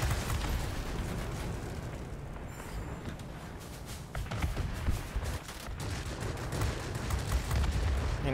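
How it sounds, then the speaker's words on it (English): Ki-102 aircraft 57 mm cannon firing in the World of Warplanes video game, a dense, continuous rumble of booming shots and roaring engine noise, loud and sustained with no voices. "Gonna be all about the 57 millimeter cannon."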